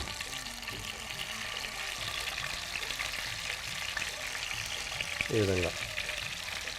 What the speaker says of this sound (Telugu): సో ఇందులో వాటర్ లేకుండా చక్కగా తీసి ఇలా ఫ్రై చేసుకోవాలి వీటిని.